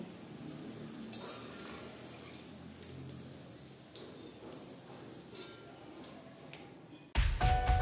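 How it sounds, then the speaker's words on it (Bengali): Potato chops frying in hot oil give a steady, close sizzle with scattered small pops and ticks, ending in a sudden louder clatter as they are handled. "এই যে দেখেন চপটা আমাদের কি সুন্দর ভাজা হয়ে গেছে।"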